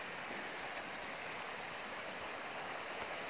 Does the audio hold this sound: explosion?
no